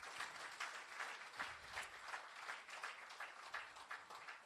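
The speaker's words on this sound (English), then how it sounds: "I think they deserve a huge round of applause." Faint, steady applause from an audience at a Noor Takaful surplus event, a continuous wash of clapping with no voices over it.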